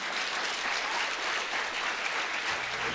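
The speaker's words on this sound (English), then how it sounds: "Now you can clap." Audience clapping at a TED-style talk session, a dense, steady wash of applause filling the hall without a break.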